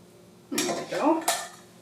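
A spoon scrapes and clinks around a pot of homemade lentil soup in two short stirring strokes, close and fairly loud against a quiet kitchen.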